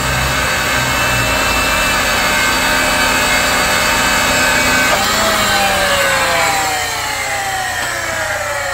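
A Ridgid 300 pipe machine threads oiled pipe with a loud continuous grinding, whirring drone, its pitch shifting and sliding partway through, with no talk.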